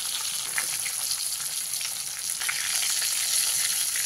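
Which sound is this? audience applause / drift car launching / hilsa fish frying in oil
hilsa fish frying in oil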